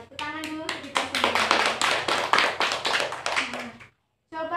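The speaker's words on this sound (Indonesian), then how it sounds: "tepuk tangan dulu kita semua" A classroom of children claps together in a quick rhythmic pattern, distinct bursts of hand claps with children's voices chanting along, then a short pause before voices resume.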